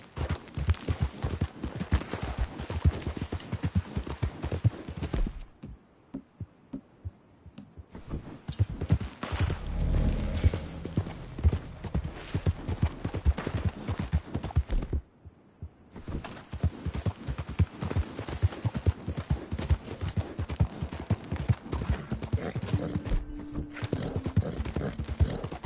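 Horse hooves galloping in the video game Red Dead Redemption 2, a fast, loud, rhythmic clip-clop that runs continuously, breaks off twice in short pauses, then resumes, with a faint whinny near the end.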